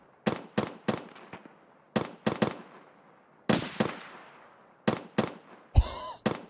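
In a video game, players fire at a BTR with a rapid scatter of sharp, loud gunshots in short clusters, each crack trailing off in a brief echo, with a harsher, heavier blast near the end.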